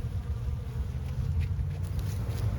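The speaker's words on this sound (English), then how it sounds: "I'm seeing bees returning to the hives" A steady, low buzz of honeybees around hives hums continuously throughout, many bees droning nearby, with faint higher flickers above the drone.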